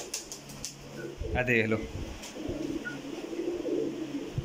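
Pigeon breeding pairs coo softly in low, throaty bursts beneath someone speaking briefly, with some shuffling and light background noise around them.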